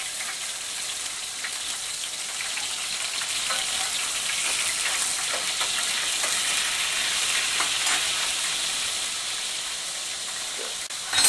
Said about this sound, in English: Add a tiny dash of stock, almost to kind of brush the pan.